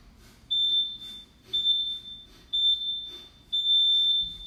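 Interval timer in a home HIIT workout giving four steady, piercing electronic beeps spaced about a second apart, loud and near, with faint room noise between them.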